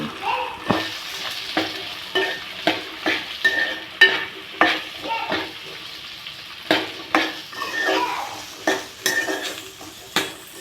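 Food frying in oil with steady sizzle while a utensil stirs it, producing repeated scraping knocks against the pan roughly every half second, close and fairly loud, no voices.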